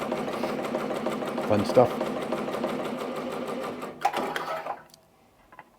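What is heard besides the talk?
Ricoma MT 1501 embroidery machine sewing a satin stitch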